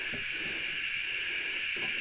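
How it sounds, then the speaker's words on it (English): A small air fryer runs off an Allpowers S2000 solar generator, giving a steady, even fan whir and hiss that holds constant throughout, with a couple of faint soft knocks underneath. "you can see it's running an air fryer there"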